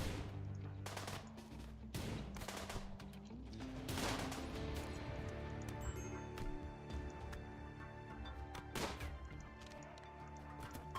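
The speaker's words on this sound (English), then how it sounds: "They all have fucking guns." Gunfire in the RimWorld video game comes in scattered sharp shots and short bursts over a quiet game music bed, fairly faint overall.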